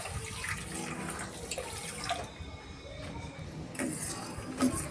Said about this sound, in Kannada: ಒಂದು ಪಾತ್ರೆಗೆ ಸಕ್ಕರೆ ಒಂದು ಬಟ್ಲು ಹಾಕಿ ಒಂದು ಬಟ್ಲ ನೀರು ಸೇರಿಸಿ